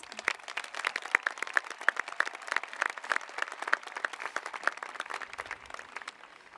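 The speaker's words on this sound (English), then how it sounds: "Let's give them a round of applause." Commencement ceremony crowd applauding high school seniors, a fairly distant, steady patter of many hands clapping throughout without any talk.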